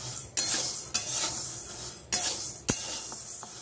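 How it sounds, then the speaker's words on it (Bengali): A metal utensil clinks and scrapes against a pan as an egg is stirred while frying, giving four or five sharp, close knocks over a faint, soft sizzle. "ডিমটা বেশ ভালোভাবে ভাজতে হবে, বেশি কড়া করে ভাজতে হবে না"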